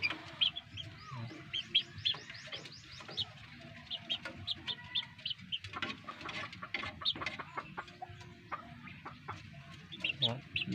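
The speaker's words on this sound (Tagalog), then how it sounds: "Ang cute na mga sisiw." Healthy young chicks chirp in a busy flock, quick high peeps and soft clucks overlapping close by in bursts, with a person speaking now and then among them.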